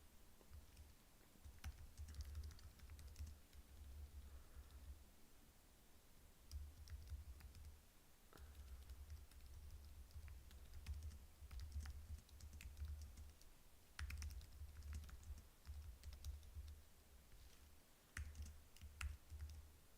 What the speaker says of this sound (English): give me 1 second, I'll just type this out